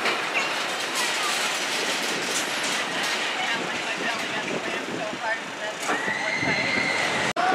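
A mine train roller coaster rumbles and clatters steadily along its track at an amusement park with a broad rushing roar, and a high metallic squeal rises near the end.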